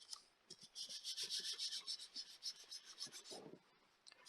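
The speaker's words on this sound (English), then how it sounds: "these flats, just sand them by hand" Hand sanding of small flat wooden pieces, a steady raspy rubbing in repeated strokes, close and moderately loud, with no talking.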